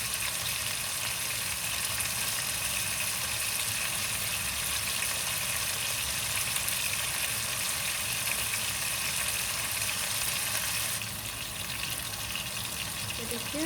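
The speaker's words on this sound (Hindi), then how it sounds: "चिकन अपना कलर वाइट से थोड़ा गुलाबी सा हो जाए, गोल्डन सा हो जाए, इतनी देर इसको भून लें" Chicken pieces sizzle steadily in hot oil in a pan on the stove, a dense continuous hiss close up, with no talking.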